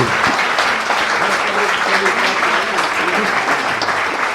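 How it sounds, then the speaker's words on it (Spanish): A conference audience in Benidorm claps loudly and continuously, a dense, sustained round of applause lasting the whole stretch without letting up. "le vamos a dar un fuerte aplauso que se lo merece"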